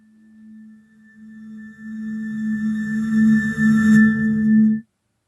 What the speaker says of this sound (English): this has a reverse reverb effect on it.